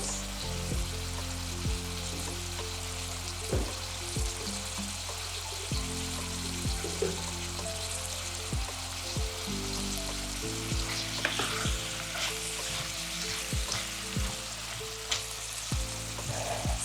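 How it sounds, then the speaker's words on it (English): Butternut simmers in a pot with a steady soft sizzle and bubbling, punctuated by occasional clinks and stirring knocks, close up and with no talking. "we're just gonna let it simmer for a little bit and then we mash it"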